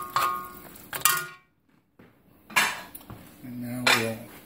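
Metal utensil stirring puttanesca sauce in a pan, with a few close clinks and scrapes in separate bursts and brief quiet gaps between them.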